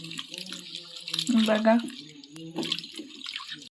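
Tap water runs and splashes over cooked bamboo shoots as they are washed, rising in bursts, while a person talks over the flow.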